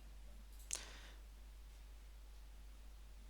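A single faint computer mouse click sounds once against a quiet, steady background hiss, with no other clicks following.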